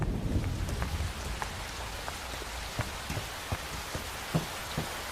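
Steady rain falls throughout, with scattered drop impacts and a low rumble of thunder underneath; no voices.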